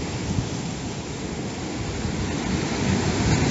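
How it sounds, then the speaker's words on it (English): Huge storm waves on the Aegean Sea crash and churn against a rocky shore, a steady, dense roar of surf and wind with no pauses, loud and close throughout. "they're massive waves"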